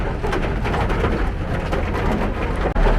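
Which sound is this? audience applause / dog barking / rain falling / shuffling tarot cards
rain falling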